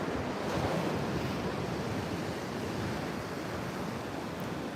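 Waves surge steadily at a river mouth on the coast, a continuous broadband wash of surf mixed with wind buffeting the microphone, fairly faint and unbroken, with no voices.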